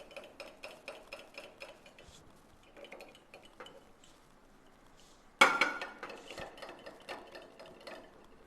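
A spoon stirs hibiscus flower juice with squeezed lemon in a Kerala kitchen, light rhythmic clinks and swirls that grow suddenly louder and busier partway through.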